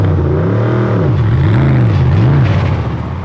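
A powerful V8 engine in a Callaway Competition GT race car revs loudly and close at the Lausitzring, its deep pitch swooping up and down in repeated surges before easing off at the end.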